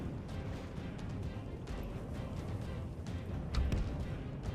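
Artillery firing in the medieval battle game Medieval 2: Total War: a dense, distant rumble of battle noise with scattered dull booms and a heavier thud near the end, no clear talk.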